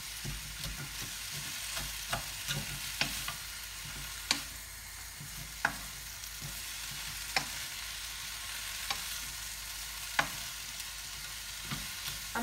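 Pad thai with bean sprouts stir-fries in a pan, a soft steady sizzle broken by regular clinks and scrapes of the utensil roughly every second or so.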